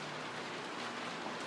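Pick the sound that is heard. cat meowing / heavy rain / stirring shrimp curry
heavy rain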